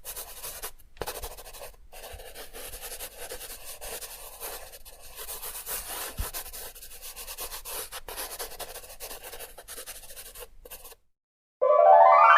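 A crayon rubs back and forth on paper while a lion drawing is coloured in, a close, steady scratchy rasp that ends abruptly, followed by a brief silence and then a loud burst of music.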